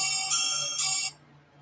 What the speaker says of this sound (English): yes, that is the ringtone from One Missed Call